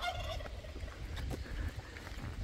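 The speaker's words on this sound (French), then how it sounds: "Une dinde." A turkey gobbles near a long straight road through open fields, a rapid warbling call up front, followed by low rumbling background noise with no voices.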